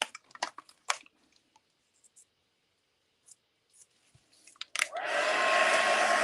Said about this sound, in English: Might heat my gun a bit before I actually touch it too this time.